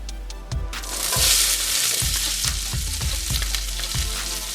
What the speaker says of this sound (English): I'm just going to throw my onions in there